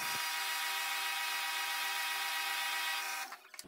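Steady, loud metal-cutting whine of a milling machine working metal, a continuous tonal drone that holds evenly and then tapers off with a few small knocks at the end.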